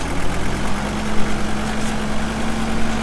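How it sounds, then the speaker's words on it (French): A new Bobard straddle tractor idles in a vineyard, its engine running with a loud, steady low drone and a constant hum that holds evenly throughout. "papy est en train de tester son nouveau tracteur"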